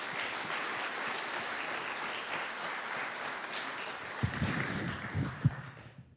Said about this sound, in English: Let's give Justin a big round of applause